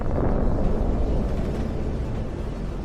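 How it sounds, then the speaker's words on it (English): A military vehicle is destroyed in an explosion during the war in Ukraine, heard as a heavy, deep roaring rumble that fills the whole stretch and slowly fades. "After such an explosion, it can be said that nothing remains of the vehicle."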